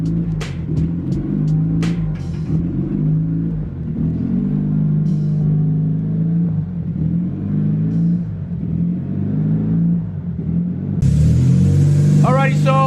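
A repaired Honda Civic's engine runs steadily in a garage with a low idling rumble and a few revs, and a voice cuts in near the end.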